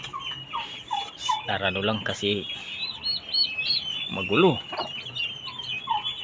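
Domestic turkeys in a farm pen give repeated nasal calls and gobbles in short bursts, fairly close, over a steady bed of chirping and clucking fowl, with a person speaking briefly.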